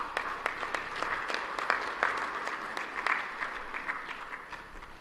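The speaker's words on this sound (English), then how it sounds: "May I please request that we have 2 rounds of applause for our co-chairpersons" Applause from an audience at the official opening ceremony of a joint SADC and EAC summit, steady clapping with sharp scattered claps for several seconds, no talking.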